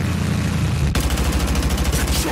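Dense gunfire rolls in a continuous loud barrage of rapid shots, with a sharp change in texture partway through as the firing turns into a quicker, rattling burst like a machine gun.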